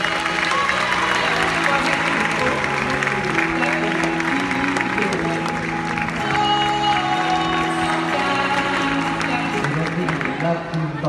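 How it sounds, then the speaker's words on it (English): Crowd applause at an outdoor dolphin show, a loud, steady roar of many hands clapping that runs the full length without pause while music plays underneath. "So I think he deserves a huge round of applause."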